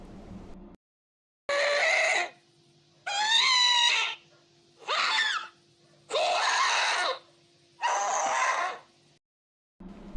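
Five separate drawn-out shrieking wails from a Ghast in Minecraft, each about a second long with short quiet gaps between them, eerie and high-pitched cries heard alone over a faint steady hum.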